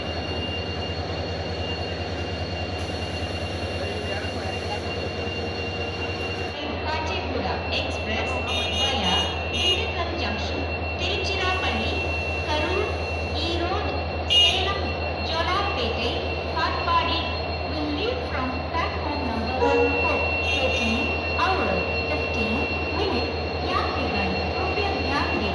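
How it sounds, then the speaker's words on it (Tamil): Two diesel locomotives attach to the Rameswaram train at a station, heard as a steady low engine drone with intermittent clanks and metallic rattles, while someone talks throughout. "ஸோ பார்த்துருப்பீங்க லோகோ அட்டாச் பண்ணது."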